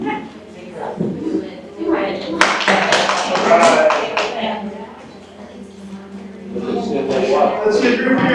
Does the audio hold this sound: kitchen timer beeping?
no